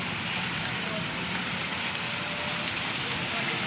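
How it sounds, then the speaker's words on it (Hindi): Heavy hail falls in Punjab as a dense, steady patter of stones striking hard surfaces close by, keeping a constant roar with scattered sharper hits throughout. "बहुत तेज़ एन शुरू हो चुकी है भाई, बर्फ़बारी शुरू हो चुकी है हमारे इस इलाके पंजाब में"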